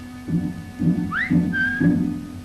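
A person whistles a short signal, a clear rising note followed by a held tone, heard over a steady rhythmic mechanical thumping that repeats about every half second.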